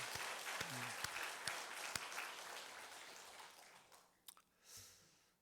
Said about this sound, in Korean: 우리 박수하겠습니다.